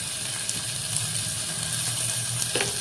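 Garlic paste sizzling steadily in hot oil in a pan for mutton biryani, a continuous close frying hiss with a faint tap near the end.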